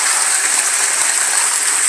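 Clean water pours steadily from a filter in a backyard aquaponic garden system beside a pond, a continuous close bright gushing splash with no pauses.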